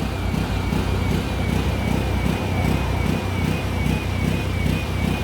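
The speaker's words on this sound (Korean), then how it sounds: "엔진 소리가 지금 많이 올라가요" A non-gas welder's engine runs continuously, revving to maximum, with a throbbing low rumble and a high whine on top, holding at a high, strained pitch throughout with no talking.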